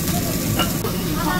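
Pork belly and pork neck sizzle on a grill at a Korean barbecue restaurant with a dense, close, continuous hiss and crackle.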